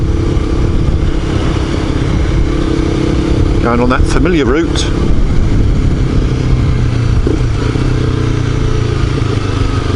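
A small Honda motorcycle engine hums steadily throughout, close to the microphone, while someone talks over it as he rides.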